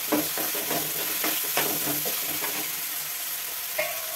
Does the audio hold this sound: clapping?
no